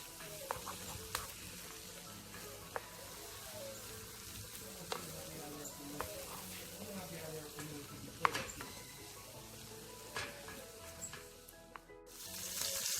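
Seasoning sautés in a pan before sausages go in, giving a faint, steady sizzle with occasional soft clicks and scrapes of stirring.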